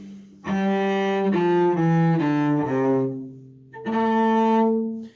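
A cello plays a quicker shifting exercise from Suzuki Cello School Book 2 practice, bowed sustained notes sliding between pitches in several connected phrases with a brief pause before the last, close and clear with no talking.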